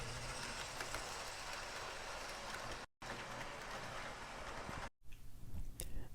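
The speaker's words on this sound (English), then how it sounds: "And running some trains, of course, so you can relax." Lionel toy trains run around a layout with a steady whirring rumble and light clatter of wheels on track, briefly cut twice, with no talking.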